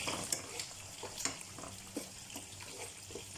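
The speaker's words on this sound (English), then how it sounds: "And then I stir it up." A spoon stirs Nigerian egusi soup with locust beans in a pot, faint repeated scraping and clinking strokes at a steady, unhurried rhythm over a low simmering sizzle.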